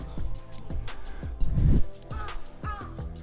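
Several crows caw out on a Tokyo street, their harsh calls repeating at an uneven pace over steady street noise and a short swell of louder traffic.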